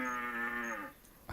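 An animal caller blown in theHunter Classic gives one long, loud, low moaning bellow that trails off after about a second, heard close and alone.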